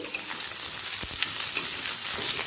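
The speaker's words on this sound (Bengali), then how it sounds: "এই সময় দিয়ে দিচ্ছি কোঁচানো পেঁয়াজ" Chopped onions fry with garam masala in a pan for a chickpea and minced chicken dish, giving a close, continuous bright sizzle with small crackles and no talk.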